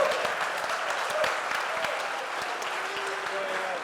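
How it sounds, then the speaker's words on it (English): An audience at a design reveal event for the Delft Hyperloop team's Helios II claps steadily, with crisp individual claps audible within the moderately loud applause, while a voice speaks faintly underneath. "can I have a very big applause for Delft Hyperloop 7?"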